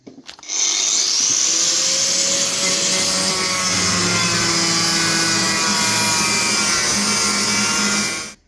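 An abrasive cutting disc slices through a metal rear mudguard on a custom Harley, widening the fender by hand; a loud, steady high-pitched grinding whine runs continuously for about eight seconds, close up and alone.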